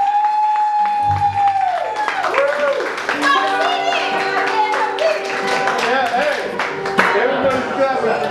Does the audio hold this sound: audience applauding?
yes